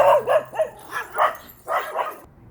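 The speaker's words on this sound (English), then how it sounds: "God forbid, a neighbor comes outside and is talking in their own yard and the dogs go berserk" Several dogs barking outside in a yard, a rapid run of loud, close barks and yips in bursts with short gaps between them.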